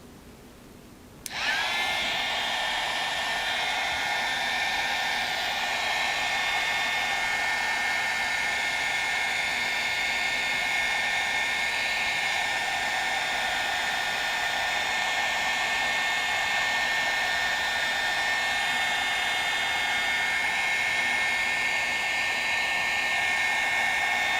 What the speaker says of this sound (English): And then for the last time, I'm going to dry my piece.